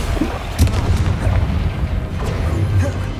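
Confringo blasting-spell explosions in the video game Hogwarts Legacy, several short booming bursts over a rumbling battle background, with a voice speaking faintly between them.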